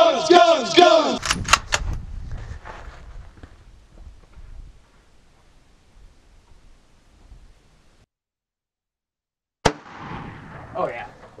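Shots from a big gun fire in a loud, booming cluster at the start, with shouting voices over them, then fade into quiet before one sharp, close blast and rumbling noise near the end.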